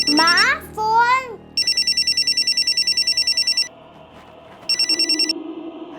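A phone rings in a home in a crime drama scene, two bursts of a rapid electronic trill separated by a pause, preceded by a voice calling out.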